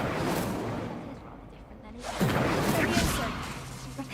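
A fiery Incendio spell is cast in Hogwarts Legacy, bursting out with a sharp whoosh midway through amid the game's background effects, with a voice speaking around it.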